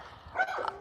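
A dog gives a single short bark or yip, brief and moderately loud against quiet background.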